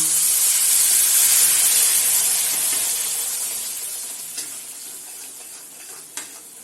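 Moong dal halwa being stirred in a pan with milk over medium heat, a steady loud sizzle and hiss that slowly fades, with a couple of sharp scrape knocks near the end.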